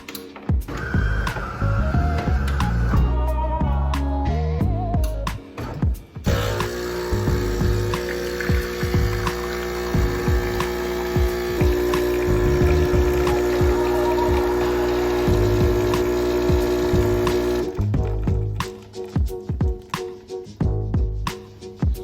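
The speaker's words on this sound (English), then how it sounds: "I'm going to press the single espresso button" A DeLonghi Perfecta 5500B espresso machine brews a single espresso: a steady, loud pump hum and liquid flow run for most of the stretch, with grinding or clicking at the start and a quieter tail near the end.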